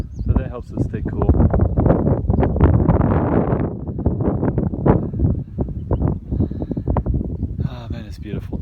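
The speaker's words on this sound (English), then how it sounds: "Windy, so that helps us stay cool." Gusty wind on the Appalachian Trail buffeting the microphone in a continuous rumbling roar, loud and close, briefly easing then picking up again.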